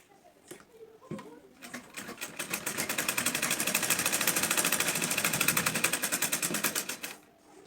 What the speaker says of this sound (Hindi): इस तरह से पीछे की तरफ फोल्ड करके भी एक मशीन यहाँ पर भी डालनी है